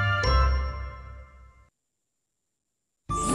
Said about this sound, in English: You are a maestro with the bells!